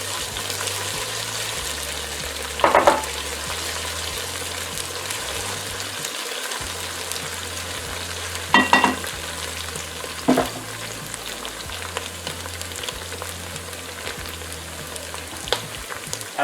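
Chicken pieces fry and sizzle in a pan for Peruvian seco de pollo, a steady crackling hiss broken by a few sharp scrapes and clatters of a spoon stirring the meat.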